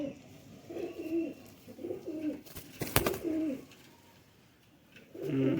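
A male Kasuri high flyer pigeon coos close by in repeated soft, throaty phrases. A sharp click or knock cuts in midway, then a final louder coo follows.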